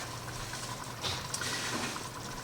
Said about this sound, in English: you can just add water